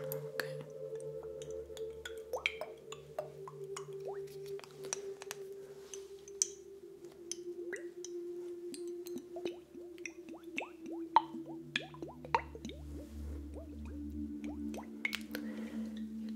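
Aftershave lotion squirts and drips from a bottle during a barber shave, giving soft wet plops and squishes. The sounds come close up and scattered over a low steady hum, with no speech.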